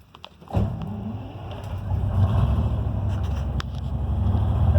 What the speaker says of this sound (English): Okay, so now we'll start this engine.